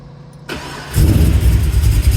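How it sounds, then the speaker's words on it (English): A cold-started HSV Grange engine cranks briefly, then fires up loudly and settles into a rough, throbbing idle close by, with no talking. "Just do the cold start."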